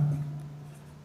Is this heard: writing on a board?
yes